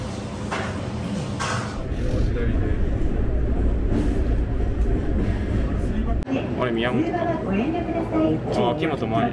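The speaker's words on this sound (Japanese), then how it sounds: "電車とか。電車。" A train rolls past in a city setting, a steady loud rumble with wheel and rail rattle throughout, some hiss and clatter, with people talking over it.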